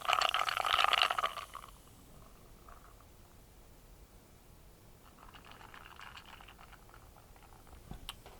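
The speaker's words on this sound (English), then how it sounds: "As you guys hear the bubbles." Carbonation bubbles fizz and hiss in a SodaStream Fountain soda maker, starting with a brief louder burst and then settling into a faint, continuous crackling patter.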